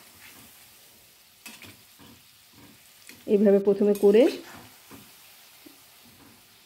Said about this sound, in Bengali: আস্তে আস্তে করে এটা ভাজতে হবে।